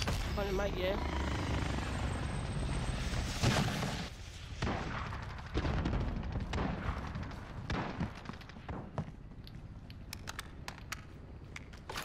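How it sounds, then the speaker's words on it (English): An attack helicopter in Call of Duty MW Plunder roars with loud rotor noise, mixed with bursts of gunfire and explosions; voices come through under the din. "Hostile attack chopper carrying cash."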